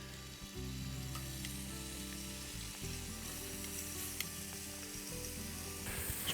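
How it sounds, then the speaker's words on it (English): Kangaroo meat sears hard in a hot pan at a campsite, giving a steady, loud sizzle that runs unbroken with a few faint scrapes and clinks near the end. "So first batch of kangaroo on. Like I said, remember it's a fast sear on this one."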